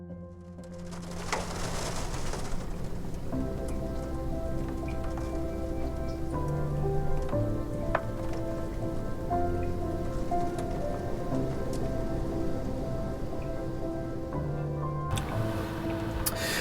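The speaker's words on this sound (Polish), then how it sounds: "Jest fatalna pogoda, leje, jest mgła, mikrośnieg, fatalnie." Heavy pouring rain in foggy weather with light sleet, a steady dense patter and hiss that runs the whole time, with faint tonal background sounds and no talk.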